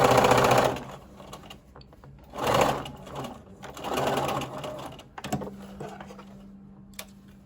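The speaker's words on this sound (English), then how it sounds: "I'm going to sew up until about here" A sewing machine stitches a puff sleeve in three loud whirring bursts, each separated by short pauses, then slows to a stop with a few light clicks and a low steady hum.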